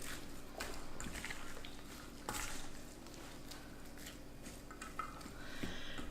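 Salt being mixed into fish ceviche in a bowl, a steady clatter of utensil against dish with scraping stirs, close and fairly loud, with a sharper knock partway through and no talking.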